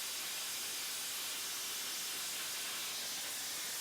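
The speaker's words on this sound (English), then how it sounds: "This method of steam cleaning uses low-pressure air with sand and heated water" Steam cleaning of an Etap 26 cruising yacht's damaged hull with low-pressure air, sand and heated water, a loud continuous broadband hiss and spray that stays even throughout, with no voices.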